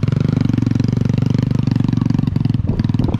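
A manual-clutch motorcycle chugs loud and close while being ridden, its engine pulsing in a fast, steady rhythm for the whole stretch, dipping slightly near the end.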